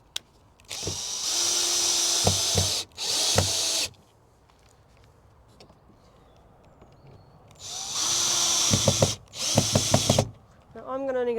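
A power drill drives screws into brackets for an allotment chicken coop and run, with two pairs of loud sustained whirring bursts split by quiet gaps and short clicks as each screw seats.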